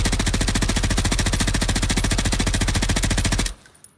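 Rapid automatic gunfire from a weapon in the video game Warzone, loud, close and evenly rhythmic, runs unbroken for about three and a half seconds, then cuts off into a short fading echo.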